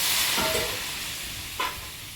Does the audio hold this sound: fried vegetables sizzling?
yes